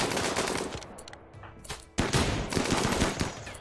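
Video game gunfire in RimWorld: rapid bursts of shots and machine-gun fire, dense and rattling throughout, with a sharp louder burst midway and no speech.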